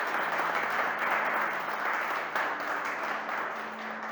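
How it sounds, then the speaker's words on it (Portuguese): Congregation applauding in a church, a steady, even wash of many hands clapping together at moderate loudness throughout, with a faint voice and low tones beneath. "Pode aplaudir ao Senhor"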